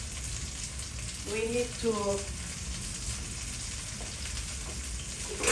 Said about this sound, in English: Then you fry it.